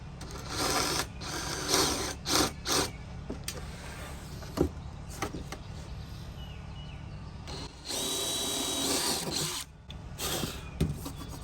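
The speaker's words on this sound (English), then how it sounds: "Now we're going to drill a hole right here in the center" A power drill whirs in several short bursts, then runs longer, starting and stopping against a low background hum, drilling a hole in the center of a wood panel.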